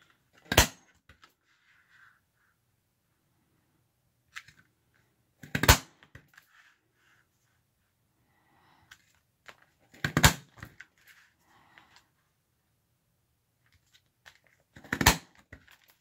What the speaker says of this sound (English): I think I do want to paper punch that.